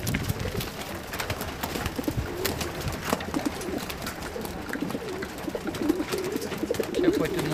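Racing pigeons coo softly and peck at feed in their loft, a busy close layer of low cooing with scattered scratching and shuffling, with no one speaking.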